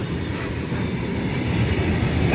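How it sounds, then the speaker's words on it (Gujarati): A freight train of petrol tanker wagons rolls past close by, a steady rumbling roar with rhythmic clickety-clack of wheels over rail joints and faint wheel squeal. "આ તો પેટ્રોલના ટાંકાની ગાડી નીકળી જો।"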